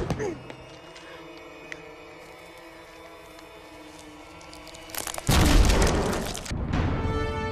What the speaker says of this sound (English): Why do you take slightly longer to explode?